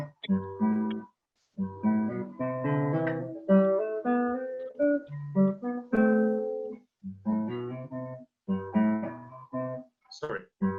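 Classical guitar passage from a masterclass, a phrase of plucked notes left ringing followed by short, clipped staccato notes in distinct bursts with brief silences between, close and clear with no talk over it.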